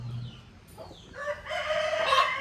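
A rooster crows loudly and close while chickens cluck faintly around it, one long drawn-out call rising over quieter farmyard sound.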